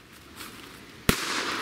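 A New Year's Eve firecracker goes off with a single sharp, loud bang that breaks a low background hiss and fades into a lingering crackly rumble.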